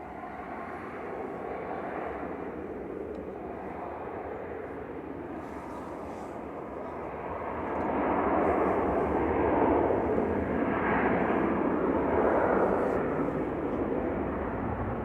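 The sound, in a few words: Royal Jordanian Airbus A320 starting takeoff roll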